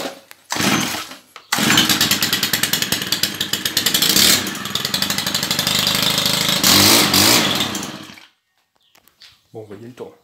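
A Stihl FS90 brush cutter engine coughs briefly, then catches and runs steadily for several seconds at a loud, buzzing two-stroke idle, close by, before cutting out into near silence with a few faint knocks.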